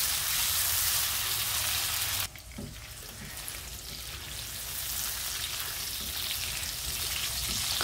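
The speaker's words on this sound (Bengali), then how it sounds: "এই পটলটা একটু লবণ, একটু হলুদ আর গুঁড়া মরিচ দিয়ে মেখে তারপরে আমি ভাজতেছি" Pointed gourd (potol) and potato pieces, rubbed with salt, turmeric and chili powder, frying in a pan: a loud, dense hiss of oil that dips suddenly, then settles into a steady crackling sizzle.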